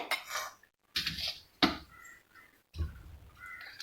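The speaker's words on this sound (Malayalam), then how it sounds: "നമുക്കിനി അതേ ഗ്രൈൻഡറിൽ തന്നെ മുളകും മുളകും പിന്നെ മല്ലിയും ഇട്ട് കൊടുക്കാം" Warmed chillies and coriander are tipped into a grinder jar in a few short clattering, rattling bursts with brief quiet gaps between them.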